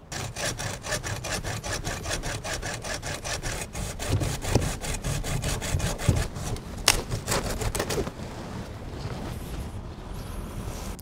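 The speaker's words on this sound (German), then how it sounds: "Dementsprechend sägen wir oberhalb des ersten gesunden Triebes ab" A hand saw rasps steadily through a fig tree branch in quick back-and-forth strokes, close and loud, slowing near the end as the cut finishes.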